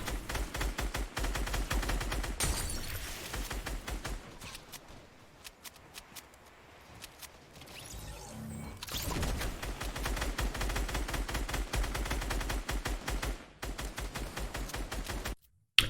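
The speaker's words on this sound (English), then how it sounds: "it feels like its Scar is shooting faster" Scar assault rifle fire in a competitive video game match, rapid bursts of sharp shots repeating through most of the stretch with a short lull in the middle, loud and close with no talking.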